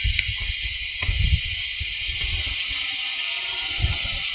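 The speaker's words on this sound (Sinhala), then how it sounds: "පානීය ජලය." Drinking water flows on a mountain hike, a continuous close hissing trickle with soft low gurgles and splashes underneath, no voices.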